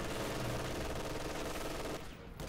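MG42 machine gun fire in a video game battle against conscripts, a dense, continuous low rattle of rapid shots that cuts out briefly near the end before resuming.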